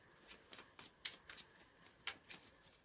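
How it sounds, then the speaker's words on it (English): Tarot cards being shuffled by hand during a morning reading, a run of soft papery riffles and slaps in irregular bursts, close and fairly quiet with no talking. "Okay, Lorraine, let's find you a card, Lorraine."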